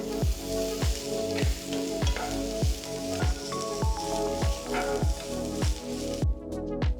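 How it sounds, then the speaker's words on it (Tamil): Cabbage sizzles steadily in a hot pan while a spatula scrapes and stirs in a regular rhythm, close up, with no talking. "அடுத்து 1 கப் நறுக்கின முட்டைகோஸ் போட்டு கிண்டுங்க"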